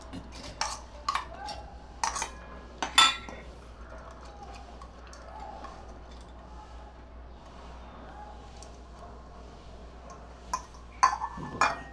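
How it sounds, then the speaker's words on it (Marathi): Dry rice grains clatter and clink into a small mixer jar in short bursts near the start and again near the end, with quiet kitchen background in between. "आता याच्यातच मिक्सरच्या छोट्या भांड्यात आपण हे तांदूळ घालूया"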